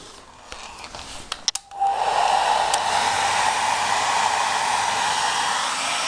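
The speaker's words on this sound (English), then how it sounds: "So let's start up the hairdryer." Handheld hair dryer blows hot air onto a PS3 console, switching on after a few clicks and handling knocks, then holding a loud, steady whooshing roar with no one talking.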